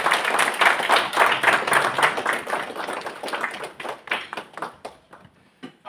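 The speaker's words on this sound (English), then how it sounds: "A round of applause to Enjoy Homes" An audience at a Kenyan home expo awards ceremony claps for an exhibitor, lively applause of many hands that thins into scattered individual claps and fades toward the end.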